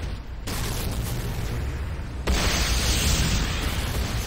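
A Hand of Nod building blowing up in the video game C&C Renegade, a loud, sustained rumbling roar of explosion that swells and grows heavier partway through, with no pause.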